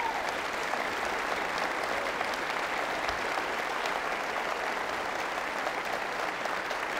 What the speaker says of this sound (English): please give a round of applause to both the participants